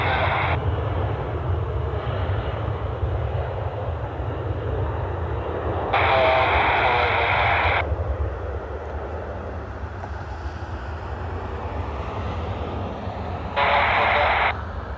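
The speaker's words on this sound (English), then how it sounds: "Delta connection heading to LaGuardia." A Delta Connection airliner rumbles at Cleveland Hopkins airport, a steady low engine roar throughout, while brief bursts of radio chatter come and go over it.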